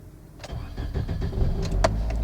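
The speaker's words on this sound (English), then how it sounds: "See, the car started." A Toyota Corolla engine cranks and catches within about two seconds, a short close starter whir turning into a steady running rumble, with no talk.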